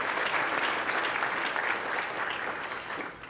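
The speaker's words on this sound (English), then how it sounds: "how about another round of applause for those 5 exceptional human beings?" A crowd at an awards gala dinner applauds the judges, dense and even clapping from a large audience that fades slightly at the end.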